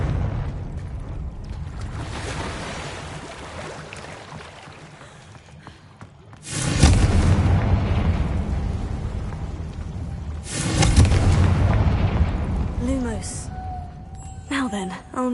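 Two loud, booming blasts of the Confringo explosion spell in the game Hogwarts Legacy burst out several seconds apart, over game voices and background sound.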